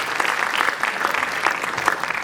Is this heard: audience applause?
yes